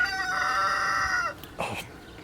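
A rooster crows once, a long harmonic call lasting over a second, followed by a short rustle or clatter nearby.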